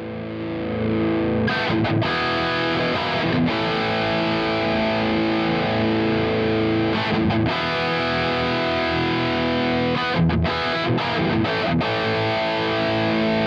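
Distorted electric guitar played through the Two Notes Torpedo Studio on its factory preset 1 cab simulation, a continuous stretch of chords with brief gaps and rhythmic stops, loud and close with no voices.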